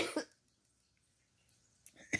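A short burst of coughing near the microphone at the start, then near silence, ending with another sharp cough-like burst.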